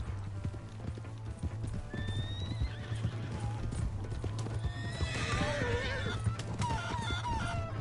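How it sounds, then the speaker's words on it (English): A horse gallops with steady, close clip-clopping hoofbeats in the Western video game Red Dead Redemption 2, and it lets out shrill neighs and whinnies partway through over a low background hum. "Hey, that's my horse!"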